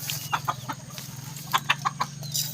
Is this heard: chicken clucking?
yes